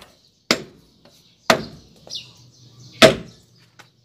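The drum brake on a Nissan Navara is struck with a piece of wood, giving three sharp, loud knocks spaced unevenly over about three seconds, with faint clatter and rustle between the blows.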